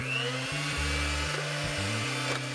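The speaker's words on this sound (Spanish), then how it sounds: "Apago la batidora por el ruido que me hace" An electric hand mixer whirs steadily close by while mixing banana cake batter, its motor pitch shifting up and down in short steps as it works, with no talk.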